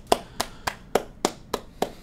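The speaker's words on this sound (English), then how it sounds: "let's give them a round of applause" Slow, evenly spaced hand claps at an online webcast event, about seven crisp claps in two seconds, moderately faint with a steady rhythm and no talking.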